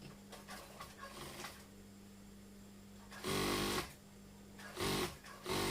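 A sewing machine stitches a pocket bag in short bursts, with quiet handling between runs and two louder, fast whirring spells of stitching close by.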